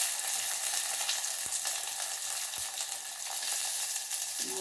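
Onion and garlic fry in hot oil in an earthen pot after mustard seeds have popped, giving a loud, steady sizzle with a few soft stirring knocks beneath it.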